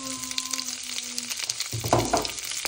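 The white part of spring onions fries in hot oil in a pan, giving a continuous crackling sizzle that swells louder near the end, with faint stirring and a brief tonal hum early on.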